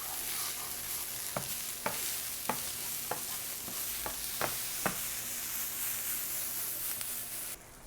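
Peppers sizzle steadily in a frying pan while a utensil stirs them, producing a series of regular scraping knocks over the constant hiss of frying, with no one speaking.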